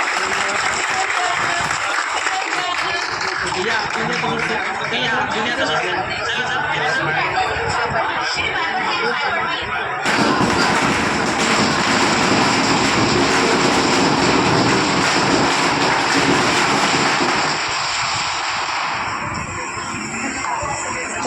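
A long, loud barrage of firecrackers at a shop opening, crackling densely and nonstop, the rattling bursts blurring into a roar that swells briefly partway through.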